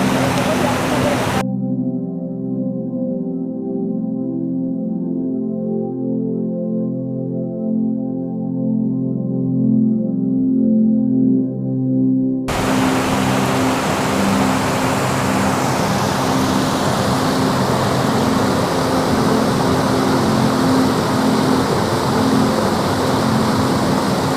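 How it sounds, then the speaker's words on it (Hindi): Water pouring over a river dam in Pakistan, a dense, loud continuous rushing roar; early on a held musical tone covers it for about ten seconds before the full roar returns and carries on steadily. "तो यहाँ से पानी गिर रहा है, आपको नज़र आ रहा होगा।"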